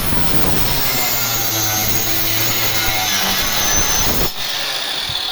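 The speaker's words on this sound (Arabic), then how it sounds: "لكن ايه محمد راجل حابب ايه يقطع بالصاروخ" An angle grinder cuts wood for a chicken coop, a loud continuous high-pitched whine with a steady droning hum beneath, holding level for several seconds before a brief dip near the end.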